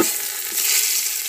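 Cumin and mustard seeds sizzling in hot oil for a tempering on a wood-fired village stove, a bright, steady, close crackling hiss with faint popping and no voices.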